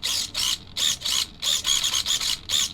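The steering servo of a 2008 Thunder Tiger KT8 RC car whirs in six or seven short, loud bursts as it sweeps back and forth, each lasting a fraction of a second with brief gaps between, close up and with no talking.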